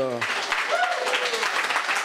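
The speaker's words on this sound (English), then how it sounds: "A round of applause" Audience applause at a party congress, clapping that breaks in right after a voice ends and continues as a steady crowd patter.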